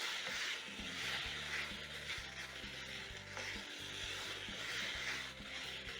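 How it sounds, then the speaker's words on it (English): Minced meat fries in a pan over a medium flame, giving a steady, close, continuous sizzle with faint stirring clatter throughout, and no voices. "I'm going to cook the minced meat over medium flame for around 2 to 4"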